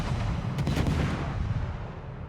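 Naval gunfire in a warship video game, a dense roaring rumble of heavy guns with a few sharper blasts early on, loud and sustained before fading slightly.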